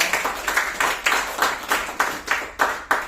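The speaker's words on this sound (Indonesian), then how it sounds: "Tepuk tangan buat True Life Empire." An audience at a business presentation claps in an even, steady rhythm, about eleven crisp claps in roughly three seconds, close and moderately loud.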